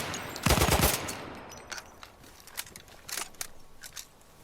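Automatic gunfire from a video game gun, a fast rapid burst near the start followed by scattered quieter single shots and short bursts, loud and close.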